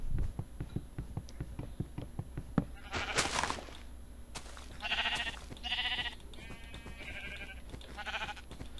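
Sheep in the Minecraft video game bleat in short, repeated bursts over a steady game background with footsteps and low ambient sounds, each bleat distinct and fairly near.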